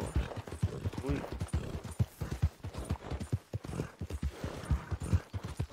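Hooves clip-clop steadily from a horse in the Red Dead video game, a rhythmic, fairly close trotting beat that continues throughout, with game sounds in the background.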